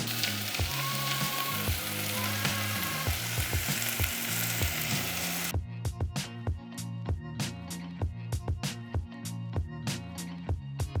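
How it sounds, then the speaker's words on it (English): Vegetables sauteing in oil in a pan, a strong continuous sizzle with frequent stirring clacks and scrapes, loud and close, no talking. "You're gonna wanna saute the vegetables until they start getting soft."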